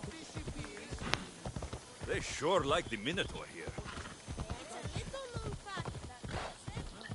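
Horse hooves trotting in a PS4 video game, a quick, regular clip-clop of close hoofbeats running throughout, under a voice talking.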